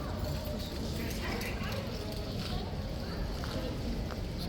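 Hooves of the King's Guard horses clip-clop faintly and irregularly on the ground, half-buried in a dense crowd murmur at a winter inspection.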